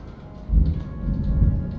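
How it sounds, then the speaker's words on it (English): Loud thunder rolls in from a nearby storm, a heavy low rumble swelling after a quiet start and holding over steady rain falling on surfaces. "Thunder's loud, bruh."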